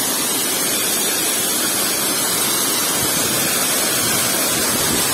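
Forest stream of flowing water making a steady, dense rushing wash with no breaks, close and fairly loud, with no voices.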